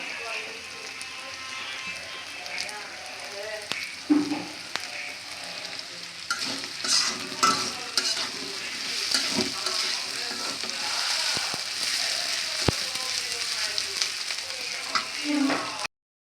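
Dried kechki fish fries until crispy in a pan, a long steady sizzle up close with scraping stirs and occasional utensil knocks, and a voice speaks briefly over it.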